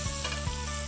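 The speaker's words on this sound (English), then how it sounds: "I'm pan-frying these separately to the beef so they remain crisp and have a different texture." Mushrooms pan-frying in bacon fat give a steady, close crackling sizzle with faint stirring, continuous and without pauses over a low hum.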